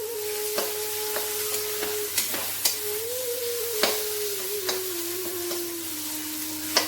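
Water lily stems and shrimp mash stirred in a pan with fresh lime juice, a soft steady sizzle broken by repeated sharp scrapes and clicks of the spatula against the pan.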